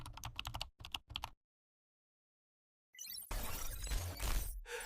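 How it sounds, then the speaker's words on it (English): Keys clatter in quick bursts on a computer keyboard as a question is typed, broken by a pause of silence before a denser, louder run of typing. "Just type your question, and ChatGPT replies in seconds."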